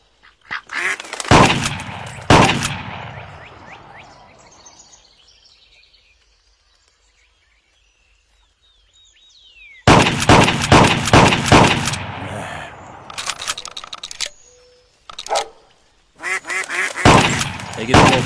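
Shotgun blasts ring out in quick volleys at quacking ducks in the VR shooting game Clay Hunt VR. Loud clustered shots are split by a quiet stretch, with duck calls between bursts.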